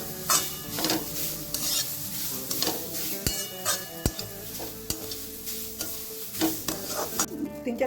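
Grated carrot and semolina frying in a pan for carrot payesh while being stirred, with a steady sizzle and repeated scraping strokes of a utensil against the pan, plus occasional sharp clinks, close and continuous.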